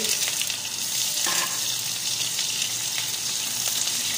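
Onion frying in a hot pan while cooking pancit canton, a steady close hiss of sizzling oil without pause, with no talking.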